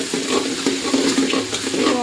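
Tomatoes and onions sauté in a pan with a short, steady hiss of frying and a faint background murmur.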